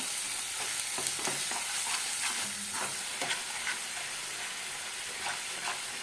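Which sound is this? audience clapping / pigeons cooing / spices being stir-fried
spices being stir-fried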